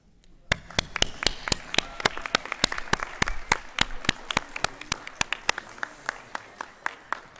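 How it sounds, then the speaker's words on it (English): Graduates at a University of Pretoria law faculty awards ceremony clapping for themselves, mostly sharp, evenly spaced claps close by in a steady rhythm, with a thinner scattering of other hands behind them. "our graduates should just stand up and applaud yourselves."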